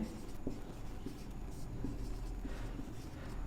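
Chalk or marker scratches out numbers on a board during a maths lesson, faint short taps and strokes under steady room noise and a soft background voice.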